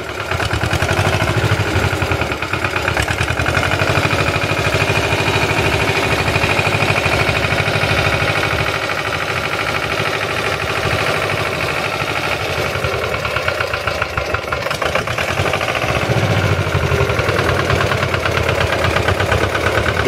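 An engine on a shaker machine used for walnut harvesting held at high throttle: a loud, steady, rattling mechanical drone with rapid pulsing that runs without a break for twenty seconds.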